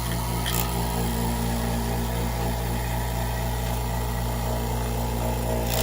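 A Harbor Freight vacuum pump runs steadily, pulling a vacuum with a constant mechanical hum and droning, close and loud throughout with no pauses.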